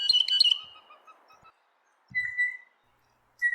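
Blue jay calls: a burst of bright, harsh chirps for the first half-second, fading through to about 1.5 seconds, then a single clear whistled note near 2.2 seconds and a brief call at the very end, fairly close with no talking.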